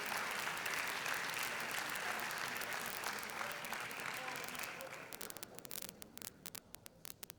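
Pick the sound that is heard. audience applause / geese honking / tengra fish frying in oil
audience applause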